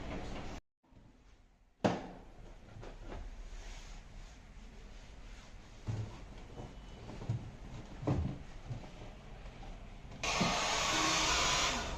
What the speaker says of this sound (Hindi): मेरा ये हेयर ड्रायर लेके इसे सुखा रहे हैं।